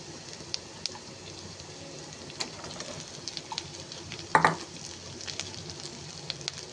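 Cut taro stems and potatoes fry in a pan with a soft, steady sizzle, scattered small pops and clicks, and one brief sharper clatter of the pan midway.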